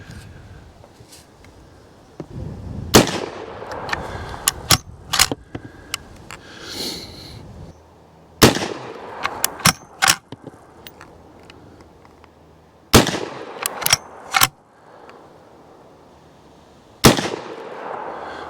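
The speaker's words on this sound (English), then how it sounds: "I'm gonna try another 4-round burst of it and see what we can get" An Uberti Cimarron Model 1873 lever-action rifle fires a four-round burst at a range: four sharp, loud reports spaced several seconds apart, each followed by quick metallic clacks of the lever cycling and a decaying echo.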